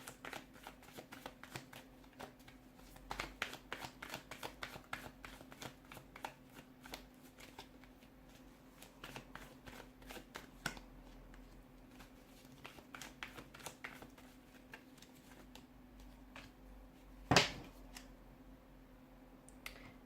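Tarot cards shuffled continuously by hand, a steady run of soft riffling flicks and taps up close, with one sharper snap near the end and a faint hum underneath.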